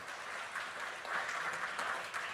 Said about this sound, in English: please join me in some applause for our core team